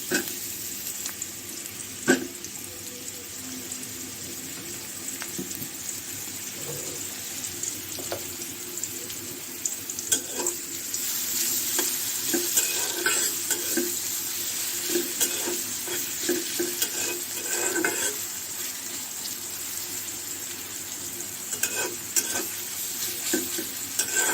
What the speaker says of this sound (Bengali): পাতা কুপে ভাজি করবো ডিম দিয়ে পেঁয়াজ দিয়ে দিয়েছি এখন দিয়ে দেবো সয়াবিন তেল পরিমাণ মতো